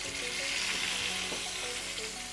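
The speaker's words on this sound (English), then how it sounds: "these have been frying right here for about almost 5 minutes" Cubes of wild boar belly dredged in flour and cornmeal fry in hot oil, giving a steady, dense sizzle and crackle with faint bubbling pops, close up and free of talk.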